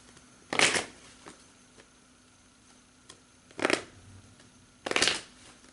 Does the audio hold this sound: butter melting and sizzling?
no